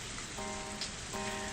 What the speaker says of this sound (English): It's not raining hard at all.